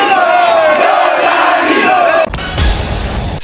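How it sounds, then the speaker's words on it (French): A large crowd gathered in Lualaba, DR Congo, celebrates Tshisekedi's re-election victory with dense, continuous shouting and chanting that fills the scene, then gives way to a rougher, lower rumble of noise near the end. "une foule des Lualabé s'était massée spontanément pour célébrer l'exploit de Tshisekedi"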